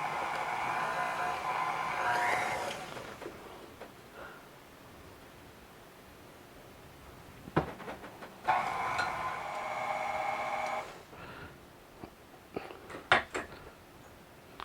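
A stand mixer whirs through pumpkin pound cake batter in a home kitchen, running in two stretches separated by a quieter gap, with clinks and knocks of bowl and utensils in between.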